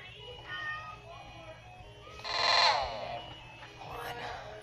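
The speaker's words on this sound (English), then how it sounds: "That cat needs to calm down." A cat meows loudly in a single drawn-out call rising over steady game music, with quieter mewing afterward.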